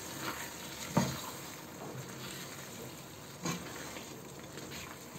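Egg korma curry with chopped green chillies being stirred in a frying pan, giving a soft continuous sizzle with a couple of light scraping knocks from the spoon, quiet and close.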